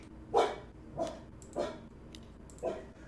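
A dog lets out a deep, scary guard-dog bark four times, each sharp bark spaced about half a second apart, close and clear against a quiet room.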